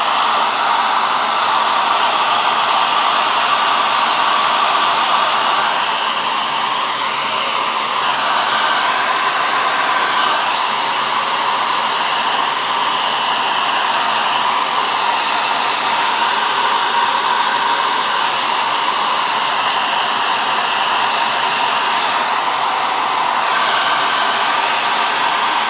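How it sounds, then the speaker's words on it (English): An air dryer blowing over wet alcohol ink, a loud continuous hissing whoosh that holds steady and close for the whole stretch. "Just going to dry it with my air dryer."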